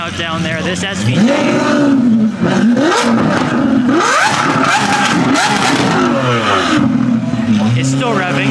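A Lamborghini SVJ revs hard at the Exotics on Broadway car week show, its loud, close engine climbing and dropping in repeated sweeping bursts over background crowd noise.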